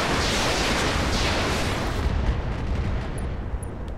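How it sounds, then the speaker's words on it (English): A roaring, rumbling salvo of MRM missiles fired in Roguetech, a BattleTech game, a continuous heavy whoosh and boom that slowly fades, with no talking. "we'll just fire some MRMs at it"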